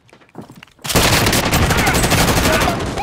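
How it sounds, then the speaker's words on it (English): Gunfire in the Call of Duty Warzone video game: a few light clicks and rustles, then a sudden loud, sustained burst of rapid automatic fire and crackling shots that stays dense and close until the end. "I'm under fire."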